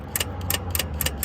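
Honda CR-V starter motor solenoid clicking as it is fed power directly by a Power Probe, giving a steady run of short, sharp metallic ticks about every quarter second over a low hum in a shop.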